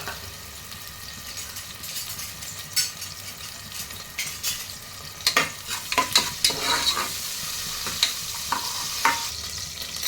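A large onion, chopped small, sautéing in hot oil in a pan: a constant sizzle with irregular metallic scrapes and clinks of a spatula stirring, busier in the second half.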